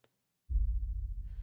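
A single deep, low percussion boom from a sample library hits after a moment of silence and rumbles on, with a faint higher wash entering at the end.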